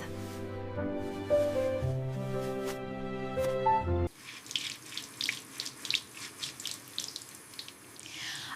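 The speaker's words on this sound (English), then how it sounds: "I wash my hands." A kitchen or bathroom tap runs for hand washing after a stretch of music, giving a close, steady splash of water with rhythmic rubbing and splattering over it.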